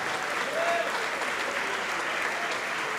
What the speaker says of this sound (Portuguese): vamos aplaudir ao Senhor Jesus por cada vida que está chegando